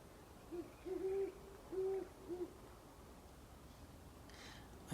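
An owl hoots from the top of a tree at first light, giving four soft, low calls in two pairs, fairly distant and faint over a quiet outdoor background.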